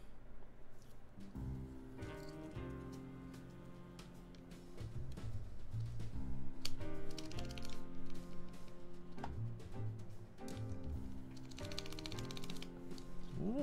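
Typing on a camouflage Filco mechanical keyboard during a build, with clattery, slightly rattly key presses in uneven bursts, close and clear, with no talking.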